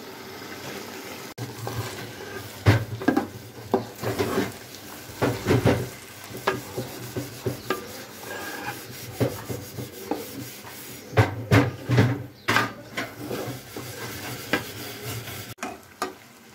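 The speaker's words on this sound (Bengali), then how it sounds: "এটা হচ্ছে বেগুনি ভাজা হচ্ছে" Eggplant fritters (beguni) frying in oil in a home kitchen, a continuous sizzle broken by repeated clattering stirs and scrapes of a utensil against the pan, close and irregular.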